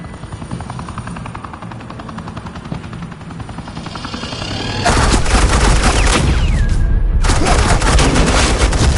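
Sustained suppressing gunfire in the video game Batman: Enemy Within: after a steadier, quieter stretch, a loud, dense burst of rapid shots erupts, cuts out for a moment, then resumes at full strength.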